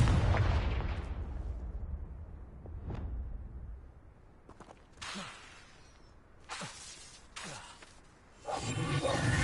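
Spell explosions from Confringo fired in a Hogwarts video game: several sharp blasts and whooshing bursts at irregular intervals, loud against a quieter rumbling game background, with no talking.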